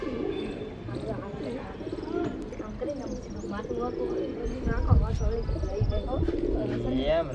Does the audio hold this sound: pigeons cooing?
yes